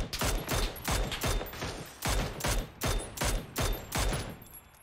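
Automatic gunfire in the video game PUBG: a loud, close burst of about a dozen rapid, evenly spaced shots, each a sharp crack with a short decay, continuing steadily with no talk.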